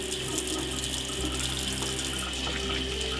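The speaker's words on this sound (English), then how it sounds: "and thoroughly wash your hands" A faucet runs in a steady, close stream while hands are washed in a sink, the water splashing continuously with no voices over it.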